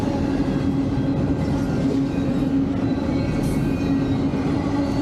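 Union Pacific freight train with a DPU locomotive rolling past near Sierra Blanca, Texas: steady, loud rumble of wagons and wheels on rail, continuous throughout with no talking.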